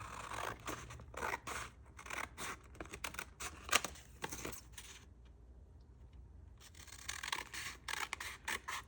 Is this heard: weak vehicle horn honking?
no